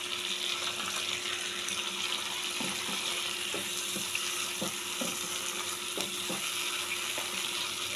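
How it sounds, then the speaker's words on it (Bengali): Paneer being fried with spices in a pan, a constant close sizzle with occasional soft knocks and stirring scrapes, no voices. "যাতে মশলার সঙ্গে পনিরটা একটু কষে নেওয়া হয়।"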